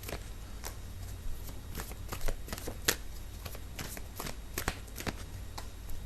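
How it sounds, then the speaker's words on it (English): Tarot cards are shuffled and drawn close by, a steady run of crisp riffling slaps and flicks repeating over several seconds with no voice. "I need to pull out a few more cards."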